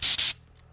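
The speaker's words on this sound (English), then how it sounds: "that's the spray gun for the Raptor with an inline" A compressor-driven spray gun with an inline feed gives two quick, loud hissing bursts of Raptor truck bed liner coating, then a faint, fading spit at the end.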